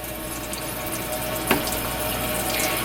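Tap water runs steadily into a sink while a makeup brush is rinsed under it, giving a constant close splashing wash with a brief louder splash partway through.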